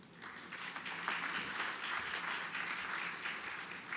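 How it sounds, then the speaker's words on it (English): Audience at a banking citation ceremony applauding steadily, a soft, even patter of many hands clapping throughout, heard from some distance. "a bigger round of applause for Sir C.S. Sethi"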